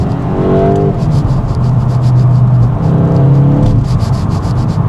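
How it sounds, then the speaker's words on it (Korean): Volkswagen Golf GTI engine and exhaust rising and falling through downshifts, heard from the cabin as a loud, steady rumble with two brief sweeping blips of revs. "가장 저는 매력적이라고 생각하는 거는 이 다운시프트 소리입니다"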